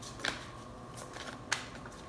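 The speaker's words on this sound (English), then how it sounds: "as I shuffle these cards" Tarot cards being shuffled by hand, faint papery riffles with a few sharper snaps at irregular moments, quiet and close with no talking.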